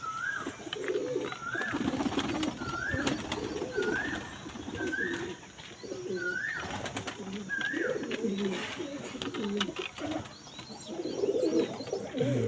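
Repeated pigeon cooing at a regular rhythm, moderately close, alongside a faint higher bird call and light background noise.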